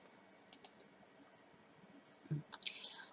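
A computer mouse clicks a download button on a webpage: two soft clicks, then a pause, then a slightly louder cluster of clicks near the end, close and quiet in an otherwise still room.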